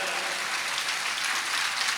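Audience applause during a Hindi religious sermon by a Jain monk, a steady dense wash of clapping from a crowd, continuous and fairly loud throughout with no talk.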